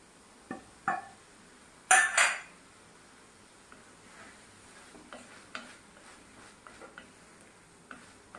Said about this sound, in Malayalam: ഇതിലേക്ക് നമുക്ക് ഈ വെണ്ടയ്ക്ക ഇട്ട് കൊടുക്കാം.